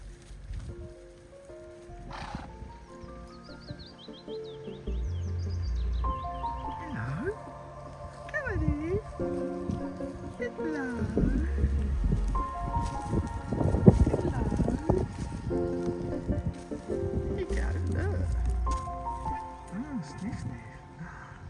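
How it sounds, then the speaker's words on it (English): A donkey wanders up to a campsite at Matley Wood, with hoof clops and snorting nearby among scattered outdoor noises, while people talk on and off throughout. "Ah, donkey."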